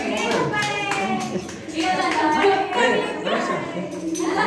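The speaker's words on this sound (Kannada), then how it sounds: "ಸಾವಿರ ಸಾವಿರ ಚಪ್ಪಾಳೆ" A group claps hands together at a festive potluck gathering, a burst of quick, overlapping claps that runs steadily throughout while people talk over it.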